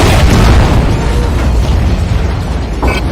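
A target blows up in the underwater combat game Aquanox: a loud, sustained explosion booms and rumbles across the whole moment, slowly tapering, with a brief mechanical burst near the end.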